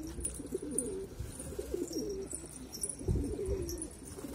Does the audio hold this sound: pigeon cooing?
yes